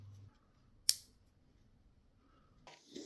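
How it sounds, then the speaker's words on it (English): A DJI Mic Mini wireless receiver snaps into its mount with a single sharp, close click in an otherwise quiet room, followed near the end by a brief rustle of handling. "You just put it like this, and there'll be a nice clicking sound."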